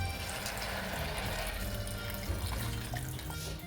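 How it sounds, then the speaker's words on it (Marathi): Hot water streams steadily into a cooker pot of rice for spiced rice, a continuous soft pour with no pauses. "आपलं पाणी पण तापलेलं आहे गरम पाणी त्याच्यामध्ये"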